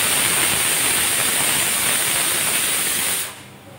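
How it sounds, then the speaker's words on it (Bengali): A pressure cooker on a kitchen stove, with meat cooking nearby, lets out a loud, steady hiss of escaping steam that runs continuously and then cuts off abruptly near the end. "এদিকে প্রেশার কুকারেও বসিয়ে দিয়েছি"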